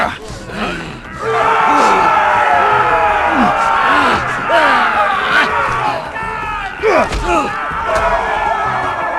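A roaring arena crowd from the Game of Thrones Telltale game swells into loud, sustained cheers and shouts, with voices bellowing over the steady din for most of the stretch.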